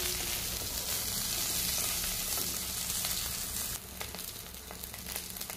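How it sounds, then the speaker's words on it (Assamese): Steady, loud sizzling of elephant apple (outenga) frying in a hot pan with popped mustard seeds, a continuous crackle with a brief shift in texture partway through, no voices. "এতিয়া ঔটেঙাখিনি ইয়াতে দি এনেকৈ অকণমান টাইম ভাজি ল'ম"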